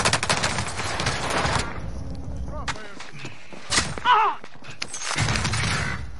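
Rapid automatic gunfire bursts in Call of Duty: Vanguard on the Caldera map, loud and close at the start and again at the end, with a quieter stretch in between where in-game voices and callouts are heard.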